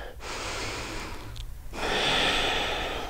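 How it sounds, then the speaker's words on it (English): Ujjayi breathing in a yoga flow: two long, audible breaths with a soft, hissing ocean-like rasp, the second fuller and louder, close to the microphone with no talking. "You're breathing here, Ujjayi breaths."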